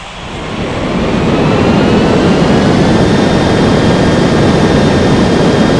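Jet airliner engine roar in an air traffic control game, rising over the first second into a loud, steady, continuous rumble with a faint whine on top, no voices.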